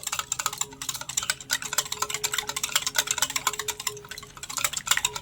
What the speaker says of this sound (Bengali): তেলটা দিয়েও খুব ভালোভাবে নেড়েচেড়ে আমি মিশিয়ে নিয়েছি